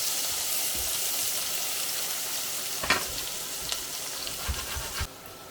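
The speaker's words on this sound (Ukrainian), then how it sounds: "Скварочки підрумянилися і ми додаємо цибулю" Onion sizzling with pork cracklings in a pan, a steady loud frying hiss with occasional clicks and knocks of stirring near the end.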